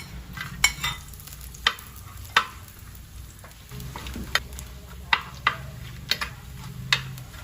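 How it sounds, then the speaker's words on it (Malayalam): Oil sizzles steadily as coconut slices fry, with sharp scraping clicks of a spatula stirring the pan every second or so, close and alone. "ഇത് നമുക്ക് ഇതിലിട്ടൊന്ന് വറുത്തെടുക്കാം"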